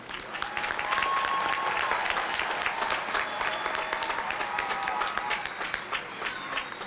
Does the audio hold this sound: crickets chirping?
no